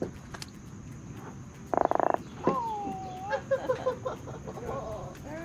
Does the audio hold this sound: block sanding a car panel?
no